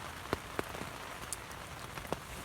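Steady rain falling on the Appalachian Trail in Georgia, a soft continuous patter with occasional louder drops striking nearby surfaces, fairly faint and with no voices.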